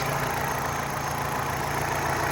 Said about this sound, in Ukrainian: Моторчик працює рівно, можете почути.